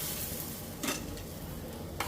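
Pakoras fry in a pan over a fast gas flame, making a faint, steady sizzle. Two brief crackling spurts rise above it, along with light clinks of utensils and no speech.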